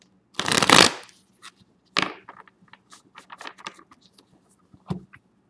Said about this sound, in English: one more shuffle here, and then we'll go ahead and get started.